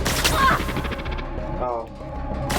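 Gunfire in the sci-fi video game The Outer Worlds, aimed at a light, comes as a quick rattling burst of shots followed by a short sharp crack and metallic clatter, close and loud amid game ambience.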